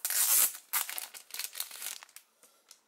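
A Panini Revolution Soccer 2017 card packet is torn open up close in a few quick rips, then crinkles softly as the foil wrapper is handled and fades out.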